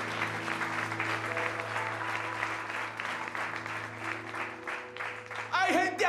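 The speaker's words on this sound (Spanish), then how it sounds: "Denle un aplauso bien fuerte a nuestro Dios." A church congregation in New York applauds loudly and steadily during a service, a dense sustained clapping that carries on throughout before a voice briefly rises at the end.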